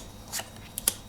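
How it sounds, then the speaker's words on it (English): Playing cards being dealt into a grid, heard as a few soft, quick flicks and slaps of cards landing, faint and spaced apart over a quiet background. "I will deal out cards into kind of a grid"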